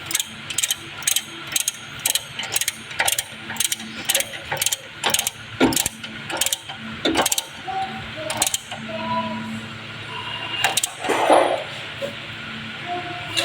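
A clip clamp is ratcheted tight onto a car steering wheel, with a close, evenly paced string of sharp mechanical clicks that grow sparser toward the end, and a faint voice at times.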